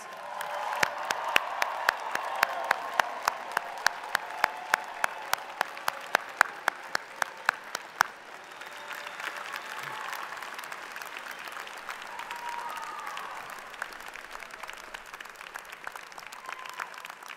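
An audience at a 2023 Drexel University College of Computing and Informatics commencement gives graduates a round of applause, a broad crowd clapping over a steady run of sharp, evenly spaced taps that stop midway, leaving the applause to continue alone.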